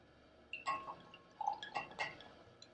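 Sparkling Riesling wine is poured into a glass, giving faint scattered drips, clinks and gentle liquid splashes in a quiet room.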